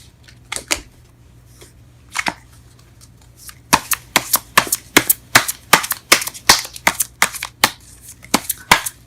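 Tarot cards shuffled and handled at close range, a run of sharp crisp flicks and snaps that start sparse and then come in quick, irregular succession.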